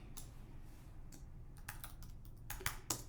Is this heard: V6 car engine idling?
no